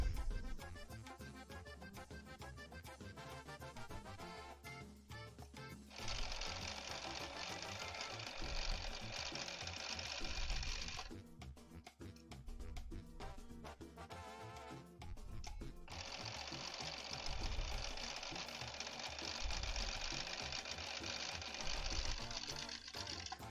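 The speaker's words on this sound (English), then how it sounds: "I do love sewing with this machine, though." Sewing machine stitching in two sustained runs of about five seconds each, a steady buzzing whir with rapid mechanical ticking that stops and restarts, heard close amid faint background sounds.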